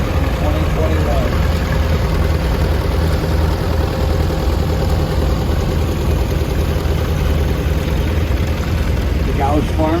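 A half-scale replica of a Steiger tractor, built in 2021, runs with a steady low engine drone at a show parade, continuous and fairly loud throughout.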